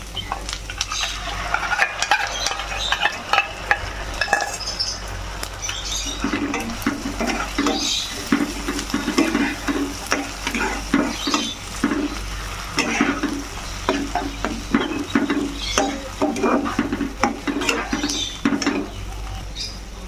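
Spoon stirring ground cashew into an egg and paneer curry in a hot pan, rhythmic scraping strokes over a wet sizzle, close and fairly loud, with the stirring growing more regular after the first few seconds.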